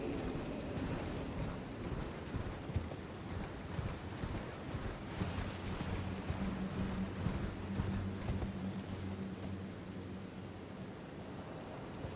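Horse hoofbeats in the video game Elden Ring, a rhythmic clip-clop of galloping hooves over a rainy, thundery ambience, fairly quiet and steady with a low drone joining midway.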